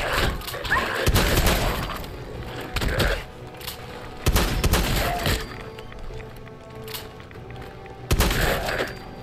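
Gunfire in the video game Fallout 4 comes in three loud, dense bursts of shots, each lasting about a second or more, separated by quieter stretches of game ambience.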